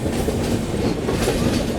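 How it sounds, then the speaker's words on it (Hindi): Kashi Vishwanath Express pulling out of Balamau Junction station, a steady dense rumble of rolling rail cars with faint rhythmic wheel clatter, close and continuous with no talk. "चलिए निकल गई ट्रेन दोस्तों बालामऊ जंक्शन रेलवे स्टेशन से"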